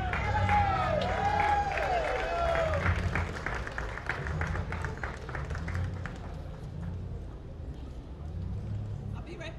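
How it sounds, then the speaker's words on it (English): Audience applause at a Puerto Rican flag raising ceremony in Paterson, a steady wash of clapping with some cheering and whistles, joined early by a voice over a loudspeaker. "Let's give her another round of applause"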